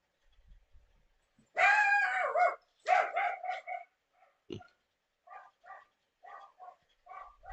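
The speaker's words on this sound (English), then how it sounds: "My dog is going berserk." A dog barking, a loud close burst of yelping barks followed by a run of shorter, fainter barks in quick succession.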